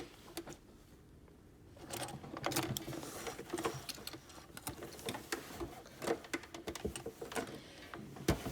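A sewing machine stitches through a fabric collar facing in a soft, fast mechanical patter, then runs briefly in reverse for a few stitches to finish, quiet and close with no speech.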